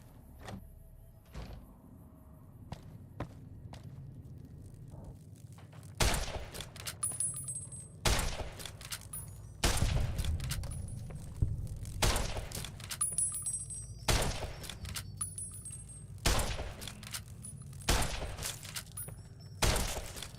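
Shotgun fire in the video game Fallout: New Vegas, with a series of loud, sharp blasts spaced a couple of seconds apart, each trailing into a brief rumble over a quiet game background.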